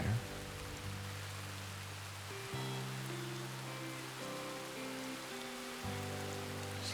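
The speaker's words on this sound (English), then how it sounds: "Just listen to the rain." Steady rainfall in the open world of Red Dead Redemption 2, a continuous soft hiss of drops on surfaces beneath sustained low tonal game ambience, heard alone without voices.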